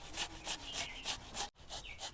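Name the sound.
grating watermelon to extract its juice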